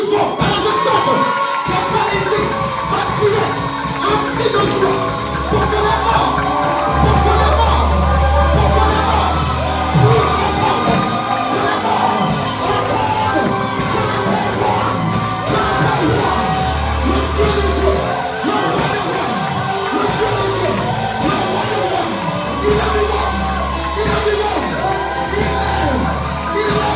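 A church congregation at a Sunday service shouts together in repeated loud bursts of many voices, with whoops and yells over a low, pulsing background.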